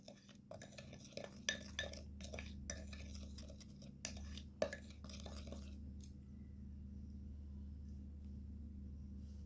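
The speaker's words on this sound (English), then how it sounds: "Mix the dry ingredients together very well." A spoon or whisk mixes dry ingredients, including baking soda, in a bowl, giving a run of quick clinks and scrapes against the dish. The clinking stops about two-thirds through, leaving a low steady hum.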